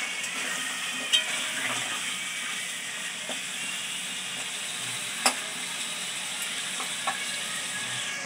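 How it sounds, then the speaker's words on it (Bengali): Potato pieces fry in oil left over from frying meat, producing a continuous even sizzle and hiss with a few sharp clicks and pops scattered through. "ওই মাংস ভাজার তেলে আমি আলু দিয়ে দিলাম, দিয়ে আলুটাও লাল করে ভেজে নেব।"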